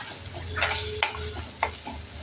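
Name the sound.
sautéing green chilli, garlic and coriander thecha in a pan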